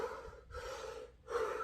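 Powerful Wim Hof breathing: deep, forceful breaths drawn in and pushed out close to the microphone in a steady rhythm, with brief pauses between them.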